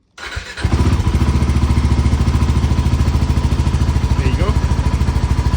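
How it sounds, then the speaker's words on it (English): A Royal Enfield Himalayan 450 motorcycle engine cranks over and catches, then settles into a steady, loud idle with an even rapid pulsing thump, close up and with no voices. "Let's turn on the engine."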